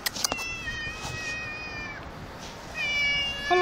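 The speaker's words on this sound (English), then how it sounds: "Oh, look at the kitty." Cat meowing outdoors, two drawn-out, fairly close meows separated by a pause, with a few faint thumps at the start.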